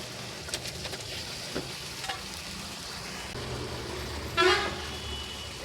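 Fried fish is stirred into poppy seed paste masala in a pan, with soft scraping and a low sizzle, a few light clinks, and a brief car horn toot in the background.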